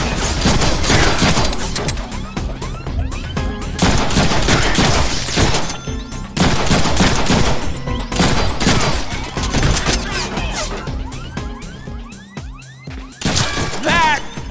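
Rapid gunfire rattles in dense bursts during combat in the Deadpool video game, loud and continuous, with crashes and impacts mixed in and game voices briefly audible between volleys.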